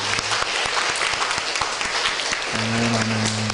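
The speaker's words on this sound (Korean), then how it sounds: "우리 하나님께 영광의 박수를 드리겠습니다" Church congregation applauding during a Korean worship service, loud sustained clapping from a packed room, with a faint held organ or keyboard tone rising underneath toward the end.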